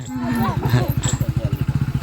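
A motorcycle engine idles close by with a quick, regular thumping putter, and a voice speaks briefly over the opening moments before the engine carries on alone.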